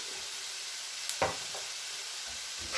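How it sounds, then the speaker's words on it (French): A spoon stirs a tandoori chicken and sautéed onion pastilla filling in a pan, a faint steady sizzle with a couple of soft scraping strokes, quiet and close. "Vous mélangez."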